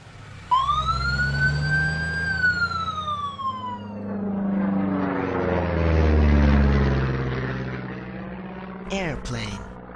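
An ambulance siren wails near and loud, its tone sliding downward over a few seconds before giving way to a rumbling, wavering drone, with a short sharp burst at the end.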